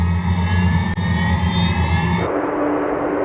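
Avro Vulcan bomber jet engines roar steadily with a loud whining drone, then the tone shifts into a broader rushing blast as the engines spool up.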